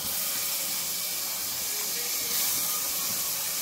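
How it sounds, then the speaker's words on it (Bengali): Washed, unsoaked chana dal hits a hot pan for lauki dal, producing a continuous bright sizzling hiss, loud and close, with no talk over it. "এবারে দিচ্ছি আমি ছোলার ডাল"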